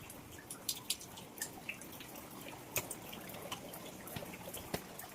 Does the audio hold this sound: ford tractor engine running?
no